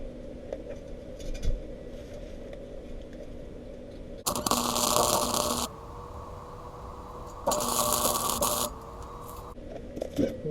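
Two short welding tacks join an exhaust tip to its piping. Each is a loud, close burst of crackling hiss lasting about a second, separated by a quiet hum.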